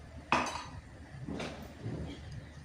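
Coconut milk and brown sugar being stirred together in a pot for biko, with a sharp utensil clink against the pot at the start followed by softer scraping and stirring sounds.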